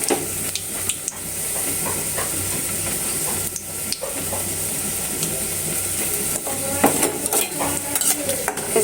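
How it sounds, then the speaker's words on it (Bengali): Dried red chillies sizzle in hot oil in a pan, a steady frying hiss broken by the sharp clinks and scrapes of a utensil stirring against the metal, close and continuous with no talking. "এই যে শুকনো মরিচটা ভাজা হয়ে গেছে"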